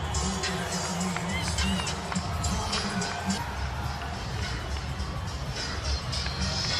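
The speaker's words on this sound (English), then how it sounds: "Well, the crowd just erupted for this man right here, Lionel." A stadium crowd cheers and roars at an Inter Miami football match as the players take the pitch, a dense continuous wall of cheering and shouting heard from within the stands.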